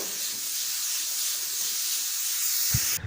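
Grated carrots sautéing with a little salt in a pan, giving a steady broad hiss throughout, faint and continuous, with a brief knock near the end.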